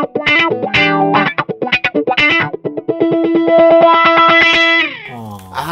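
An electric guitar played through a wah pedal for a bright, snarling tone: choppy distorted chords, then a long ringing chord whose tone sweeps, loud and close with no talking.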